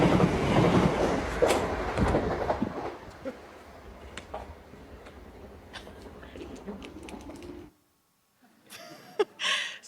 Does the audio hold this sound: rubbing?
no